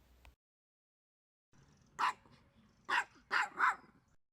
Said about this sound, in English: A couple of minutes of a little dog chasing his frisbee with a tiny bit of his barking thrown in